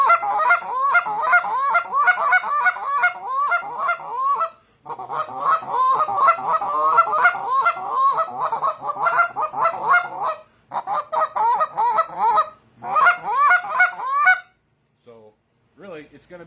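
A Big Kahuna goose call is blown close up in rapid, rhythmic honks and clucks, soft-toned but loud, running in long bursts with brief pauses between them.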